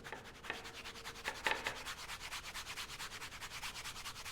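Black sharpening paste is rubbed into a leather razor strop in a continuous fast back-and-forth scrubbing, close and even, with a few brief stronger strokes early on.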